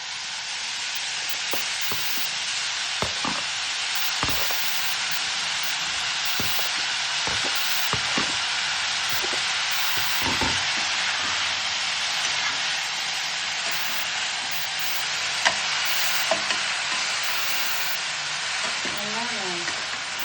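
Steady, broadband sizzling of chopped mushrooms frying in a pan over medium gas flame continues throughout, with occasional soft clicks and scrapes of stirring.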